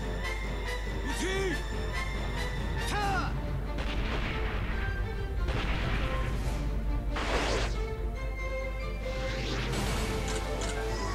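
Battleship main guns fire Type 3 shells in Super Robot Wars V, a series of heavy booming blasts and crashing impacts spread across the stretch over a constant low rumble, loud and close.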